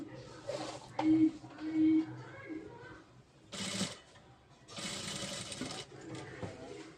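Sewing machine stitching a silk sari blouse in short bursts of rapid mechanical chatter, separated by pauses and mixed with someone speaking close by.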